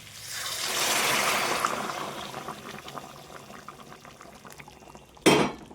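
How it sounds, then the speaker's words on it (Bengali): Hot water poured into a frying cauliflower and potato curry, a surging hiss and bubbling that swells then fades, ending with a sharp clank of a pot or utensil. "পাশে আমি জল গরম করেছি একটু সেই জলটা এখন দিয়ে দেবো"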